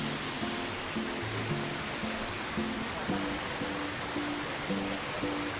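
Steady broadband rush of the wide Sera Ella waterfall in Sri Lanka, a continuous roar of falling water that stays even and close throughout, with faint tonal sounds layered over it.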